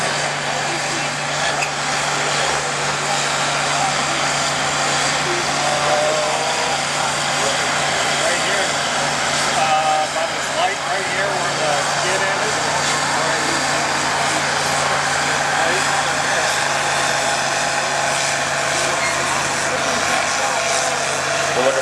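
A D21 tractor strains under load in a 6 plow open class tractor pull, a loud, continuous engine roar with a steady low drone and no letup, heard outdoors with the crowd and announcer buried beneath it.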